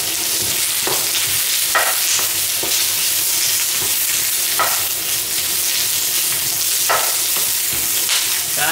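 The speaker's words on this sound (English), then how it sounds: "Let's cook up these onions a bit." Onions fry in a pan for a Cantonese oxtail and lamb stew, a loud, continuous close sizzle broken by periodic spatula scrapes and stirring knocks, with no voices over it.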